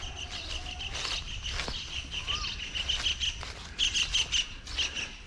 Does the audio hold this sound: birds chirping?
yes